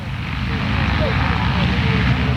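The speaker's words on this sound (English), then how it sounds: "here we have the next 4 Harvards coming by" Four North American Harvard trainer aircraft fly by at a 1993 airshow in Muirkirk, a steady, moderately loud propeller engine drone throughout the brief pass.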